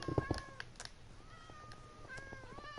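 A cat meows several times, a few short, fairly faint calls spread over a quiet indoor background with no talking.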